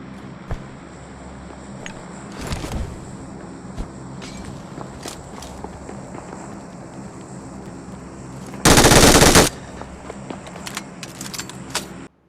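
Gunfire in the mobile battle-royale game PUBG Mobile: scattered sharp shots through steady background game noise, then a loud, dense burst of automatic fire lasting about a second near the end.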